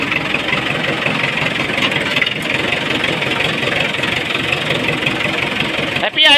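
A farm tractor engine, started after sitting unused for five years, runs loud and close with a steady rough idling chug, then its note shifts abruptly right at the end.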